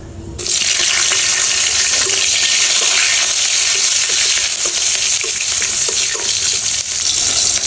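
Leafy greens stir-fried in a pan for a Bengali vegetarian meal, a steady loud sizzle running throughout with occasional scraping from stirring, close up and without speech.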